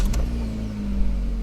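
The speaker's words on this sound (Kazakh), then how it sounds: "Машина қосылды." A 2022 Chevrolet Cobalt engine catching and settling into a steady idle, a brief cranking burst at the start followed by a smooth, low, close-up hum.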